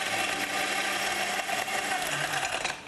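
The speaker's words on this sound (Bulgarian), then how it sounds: "И сега малко ще ползвам блендера." A blender whirs continuously as it mixes lemonade with coconut ice cream, a loud, dense motor drone that holds steady before cutting off at the end.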